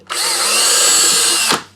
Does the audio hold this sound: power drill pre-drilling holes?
yes